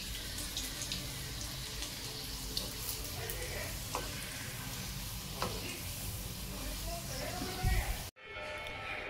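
Modaks frying in hot oil in a home kitchen, a steady, dense sizzle with stirring clatter running throughout, close and moderately loud, cutting off abruptly near the end.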